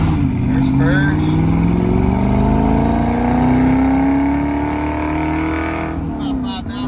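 A 1965 Ford Mustang fastback with a 289 V8 and a 4-speed pulls hard, engine note rising steadily toward high revs before easing off near the end, close and loud with brief talk over it.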